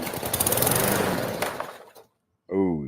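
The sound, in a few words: lawn mower engine starting up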